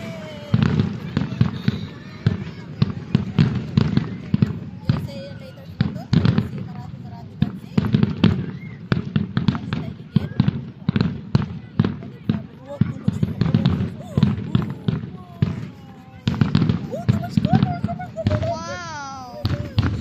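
A palace fireworks display sends out a steady stream of sharp bursts and crackling pops, some close and loud, others more distant, while people chatter and react over them.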